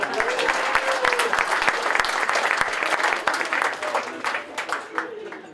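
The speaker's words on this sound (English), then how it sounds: "Give yourselves a round of applause." A comedy-show audience claps and cheers throughout, sustained applause that thins out toward the end, with a little crowd noise mixed in.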